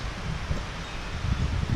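Gusty wind buffeting outdoors, a steady rushing roar with low rumbling bursts, no voices.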